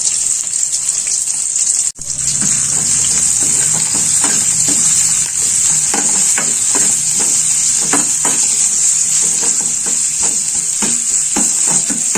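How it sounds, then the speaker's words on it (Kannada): Potatoes fry in hot oil in a pan with a steady, close hiss and sizzle, broken by occasional stirring clicks. "ಇದು ಸ್ವಲ್ಪ ಕಂದು ಬಣ್ಣ ಬರೋವರೆಗೂ ನಾವು ಎಣ್ಣೆಯಲ್ಲಿ ಬಡಿಸ್ಕೋಬೇಕ್ರಿ"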